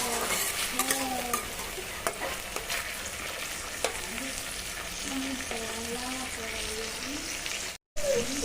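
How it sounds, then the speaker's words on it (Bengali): Ingredients for homemade fried rice are stirred with a pinch of salt in a hot, sizzling pan, giving a steady scraping, frying hiss with occasional clicks while a person talks over it. "সামান্য একটু নুন দিয়ে দেবো, একটু ভালো করে নেড়ে নেব"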